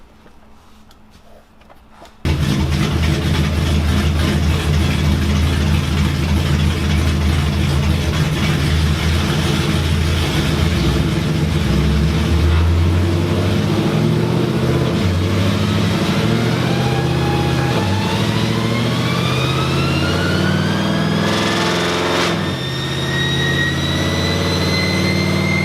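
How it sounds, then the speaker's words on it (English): Camaro engine warming up at idle, starting after a short quiet moment and then holding a steady, deep rumble, with a faint rising whine creeping in later. "We're letting the Camaro warm"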